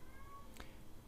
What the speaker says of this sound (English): She's actually playing right now and meowing all over the place.